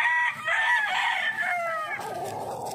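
A young gamecock stag, tied on a cord, crows once in a long, loud, close call that wavers and trails off, with no talk over it.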